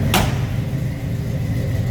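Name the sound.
truck door closing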